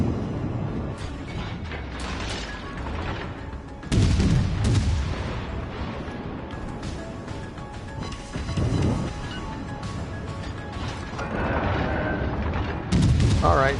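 Naval gunfire slams into a warship in World of Warships Legends, with several heavy booming impacts at uneven intervals over a continuous rumbling, clanking battle background.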